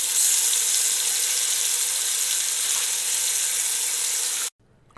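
Boneless beef short ribs searing in a large Dutch oven, a loud, steady bright sizzle that runs unbroken for several seconds and then cuts off abruptly.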